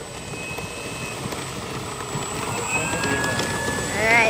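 Radio-controlled model airplane taxiing across a dry lake bed at El Mirage, its electric motor and propeller giving a steady whine that swells louder near the end, with outdoor ambience behind.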